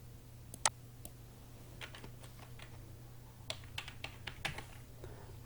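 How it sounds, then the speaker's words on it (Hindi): Keys clatter on a computer keyboard during spreadsheet work, scattered quiet keystrokes in short irregular bursts over a low steady background hum. "कैपिटल में अगर टाइप करना तो यहाँ पर हम कैपिटल में टाइप कर लेते हैं।"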